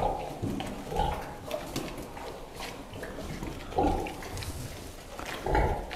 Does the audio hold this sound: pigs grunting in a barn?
yes